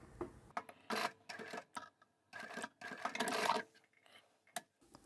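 An overlocker serger stitches pleats on a simple beanie cap, running in short bursts of whirring stitching separated by brief pauses, close and fairly quiet.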